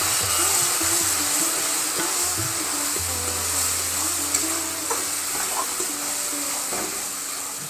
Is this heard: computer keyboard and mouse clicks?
no